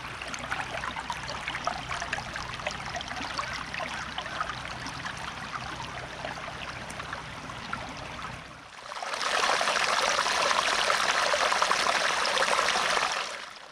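A flooded creek after a flash flood rushes steadily nearby as a broad, continuous wash of water, growing louder and fuller about two-thirds through.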